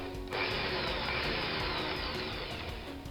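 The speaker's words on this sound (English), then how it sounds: "first off, we'll be drilling out the posts" A small power drill whirs steadily and continuously at close range, drilling out posts on a Matchbox Range Rover toy car, its high-pitched motor running for a few seconds.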